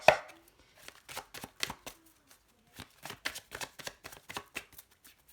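Tarot cards being cut by hand, a series of sharp papery slaps and flicks in quick irregular bursts, close and dry with short pauses between, no voice.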